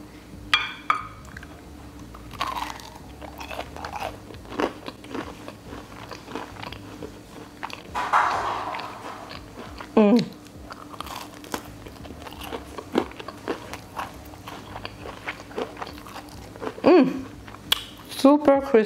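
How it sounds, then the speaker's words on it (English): Crispy fried salmon tenders are bitten and chewed up close, giving repeated sharp crunches and crackles scattered through about nineteen seconds, with some talking between bites. "I'm super excited to try these salmon tenders. They look so crispy. Wait till you hear the crunch."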